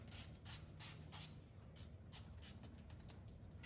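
A ratchet with a half-inch deep-well socket loosens the bolts on a Flathead Ford distributor, giving quick bursts of clicking pawl strokes with short pauses between them, close and fairly quiet.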